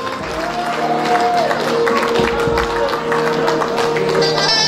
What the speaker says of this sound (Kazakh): Сол кезде барша ағайын туған ерекше шапалақ соқты,